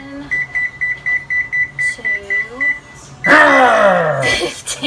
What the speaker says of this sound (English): And then we are going to turn the timer on for this bacon